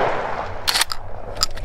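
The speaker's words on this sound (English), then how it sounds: "we are shooting safely downrange into a giant mud mountain" A cheap shotgun fired outdoors into a mud berm, with two sharp, bright reports about three quarters of a second apart, each followed by a brief ringing tail, standing out over steady low background noise.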